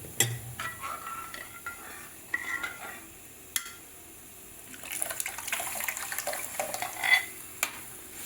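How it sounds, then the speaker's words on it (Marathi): Lentil stock drained from cooking puran is poured into a spiced masala and stirred, giving soft splashing and liquid sloshing with scattered spoon-against-pot scrapes and clinks, louder near the end, no voices. "जो डाळीचा कट काढलेला आहे पुरण शिजवताना तो यामध्ये टाकणार आहे"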